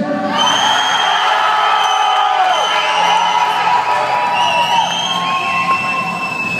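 A large audience at a hip-hop dance battle final at an outdoor festival shouts, whoops and cheers loudly and continuously, with high voices and scattered yells rising over a dense, sustained roar.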